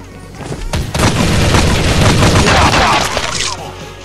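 Gunfire and booming blasts in the video game Crisis Action, a loud sustained volley of rapid shots building over a few seconds before easing off, with brief speech mixed in.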